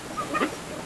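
A brief flurry of clucks and squawks from hybrid and native chickens, fairly faint, over a steady background hum.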